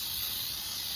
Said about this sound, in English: I just spray the pan really nice.